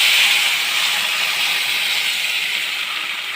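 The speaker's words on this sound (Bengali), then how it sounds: "এখন আমি জল দিয়ে দেবো।" Fried mung dal in a pan hisses loudly and steadily as water is poured in, a bright, broad steam sizzle that fades slightly toward the end, with no talking.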